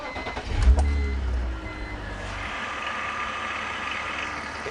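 Car engine idling with a noisy original lower tensioner pulley, a low engine rumble that is loud at first then settles into a steady hum with a faint whirring whine, heard close up without talk.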